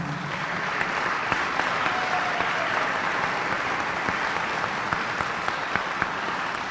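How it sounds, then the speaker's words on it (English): Sustained clapping from an audience in a hall, thanking a school orchestra, many hands at once forming an even, fairly close wash of applause with no speech over it. "Let's give them a round of applause."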